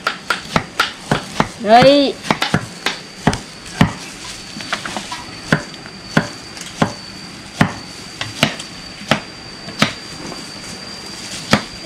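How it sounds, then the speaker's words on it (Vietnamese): A knife chops fruit on a board in a home kitchen with a steady run of sharp, close taps. A brief voice breaks in near the start. "bà đã thái xong hoa quả rồi nhá"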